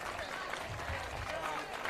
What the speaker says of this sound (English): The crowd all giving a big round of applause here.